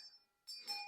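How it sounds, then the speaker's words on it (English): An old brass bell made in India rings softly with a clear metallic tone that decays, then rings again more sharply near the end. Both rings are faint and brief. "And I got this old brass bell. And it does work, as you can hear."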